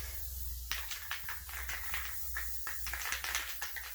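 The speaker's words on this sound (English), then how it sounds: "I'm only going to spray down where the fender is." Spray adhesive hisses in short bursts onto a cardboard fender mockup, close by and moderately quiet, with a faint background hum.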